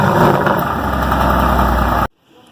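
A 4-liter twin-turbo V8 in a 2019 Mercedes-AMG GT R idles loud and close with a steady low rumble, then cuts off abruptly near the end into near silence.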